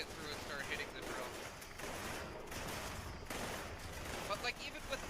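Rapid gunfire in Fallout 76, a dense stream of bursts and shots at moderate volume, with scattered explosion-like impacts throughout.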